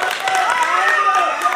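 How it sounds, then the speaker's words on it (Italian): A live audience at a magic show applauds a volunteer named Claudio, producing dense, continuous clapping that stays close and steady throughout, with voices and crowd noise mixed into the wash. "Un applauso a Claudio!"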